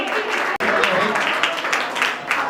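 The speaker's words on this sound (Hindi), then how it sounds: "जी ताली बजा लो। तालियां नहीं रुकनी चाहिए।" Audience applause at a Jain temple cultural program during the Daslakshan festival, a steady wash of many hands clapping that carries through the whole stretch with one very brief break, talk mixed faintly in.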